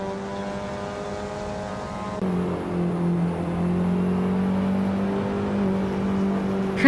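A 2016 Mazda MX-5 Cup race car engine in a racing video game hums steadily, then rises into a louder sustained drone that holds for several seconds, with no talking.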